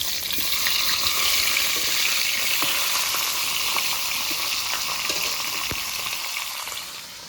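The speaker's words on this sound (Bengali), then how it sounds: "এবারে মাছের মাথাটাকে নেড়ে চেড়ে একটু ভেঙে নেব" Fish head frying in a pan, turned and broken up with a spatula: a steady loud sizzle throughout with scattered scraping clicks from stirring, no voices.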